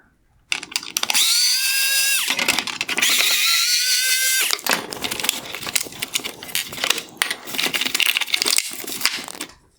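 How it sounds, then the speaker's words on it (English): A power driver whirs in two sustained bursts, then a longer rattling stretch, while backing T20 screws out of the bracket in a 2019-2020 Mercedes-Benz C400 Multi-Beam LED headlight during a bench teardown, loud and close. "Now I will remove the 2 T20 screws holding this bracket in place."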